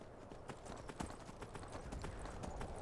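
Rapid rhythmic hoofbeats of a galloping horse in the video game Skyrim, a fast steady clip-clop pattern, fairly quiet and continuous throughout.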